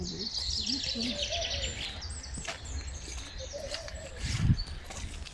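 Soft, high chirps and cooing calls of a baby bird come and go over a murmuring background at a forest campsite in Kocaeli, Turkey, with voices speaking nearby.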